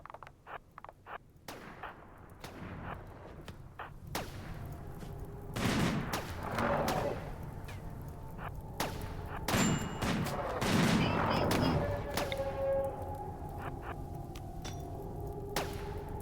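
Sniper rifle gunfire in the RimWorld game, fired from an open field during a fight with mechs: a steady run of sharp, loud shots and bursts overlapping one another, some close and heavy, with no speech.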